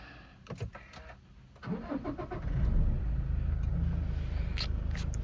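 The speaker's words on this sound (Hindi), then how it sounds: "टोयोटा का सिग्नेचर नॉइस जो डीजल इंजन का आता है" A Toyota 2.8-litre diesel engine cranks with a few clicks and whirs, catches, and settles into a steady low idle rumble, heard from close by.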